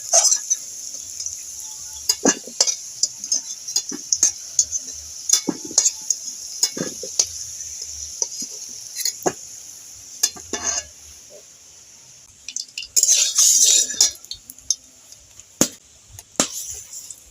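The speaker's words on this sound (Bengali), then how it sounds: "আলুটা ভাজা হয়ে গেছে, এবার আমি আলুটা তুলে নেব।" Fried potatoes are lifted out of a pan with a metal utensil, giving scattered scraping and clinking strikes over a quiet background, with a brief burst of sizzling near the end.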